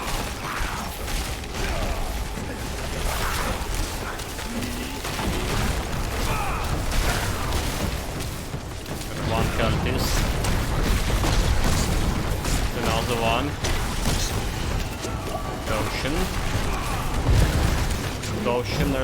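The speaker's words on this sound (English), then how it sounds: "There's a lot of explosions" Dense, continuous booms and bursts of spell explosions during Diablo 4 Sorcerer combat, rumbling loudly throughout with crackling impacts, while a player talks over the din.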